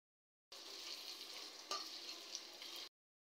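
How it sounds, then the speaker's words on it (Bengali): Whole garlic cloves and chopped onion frying in white oil in a pan, a steady close sizzle that starts abruptly, with a brief stirring scrape midway, then cuts off sharply. "প্রথমে আমি কড়াইতে দিয়ে দিব সাদা তেল, দিয়ে দিব আস্ত কিছু রসুন, দিয়ে দিব সামান্য পরিমাণ পেঁয়াজ কুচি"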